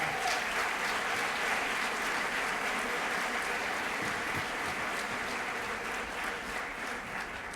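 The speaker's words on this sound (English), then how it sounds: "Yes, that's a round of applause." Steady round of applause from an audience at an employee service awards event honoring long-serving staff, a dense wash of many hands clapping at moderate distance, even and sustained throughout.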